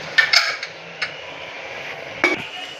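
A metal lid set onto a pot of chicken biryani simmering on low gas gives a few sharp clanks near the start and another clatter toward the end, with a quiet steady hiss in between.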